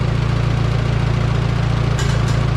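A Minneapolis Moline U302 propane tractor engine idles close by with a steady, even low thumping pulse, loud and unchanging apart from two brief sharp knocks near the end.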